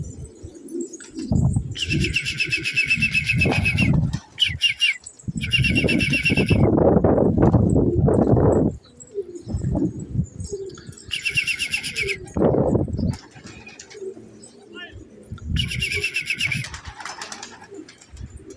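Flock of young pigeons circling in flight and landing, with repeated bursts of wing flapping and soft coos and chirps close by, alternating with quieter gaps.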